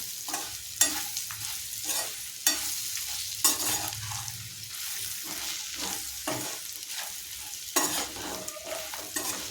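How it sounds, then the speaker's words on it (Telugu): Ivy gourd and kabuli chana frying together in a pan, giving a steady close sizzle broken by repeated scraping stirs of the spoon, with no voices. "ఇలా ఒక్క 10 నిమిషాలు వేపించుకుంటే దొండకాయ శనగలు ఫ్రై రెడీ అండి."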